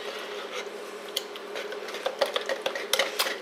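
A spatula stirring a mixture inside a plastic mayonnaise jar, giving soft, quiet scraping and scuffing strokes with a few sharper taps toward the end, close up and alone.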